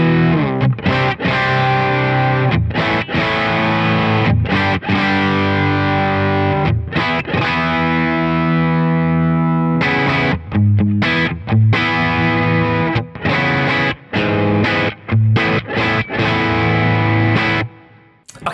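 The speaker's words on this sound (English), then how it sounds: "Now, the Peacekeeper pedal is a light to mid overdrive." Electric guitar played through a Thorpe Peacekeeper light-to-mid overdrive pedal into a REVV D20 amplifier, loud and close, with a gritty crunch that alternates sustained chords and short choppy riffs separated by brief pauses, and no voices.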